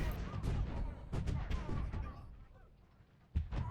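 Artillery fire in a Civil War video game, heard as several dense booming volleys with sharp bursts, a lull, and then one more strong crack near the end.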